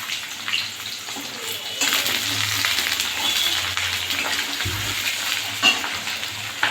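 Raw onion fries together with potatoes in a pan, producing a loud, close, continuous sizzle with stirring and scraping throughout and occasional louder bursts, without any talking.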